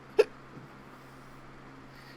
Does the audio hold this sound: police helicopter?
no